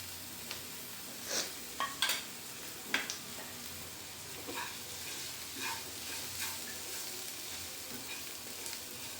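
A soft, steady sizzle of spices frying in oil, broken by a few scraping and tapping sounds of stirring in the pan, fairly quiet.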